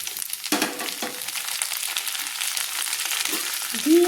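Chopped onions fry with potatoes in a pan, giving a loud, continuous sizzle with a few stirring scrapes near the start and a brief clatter at the end.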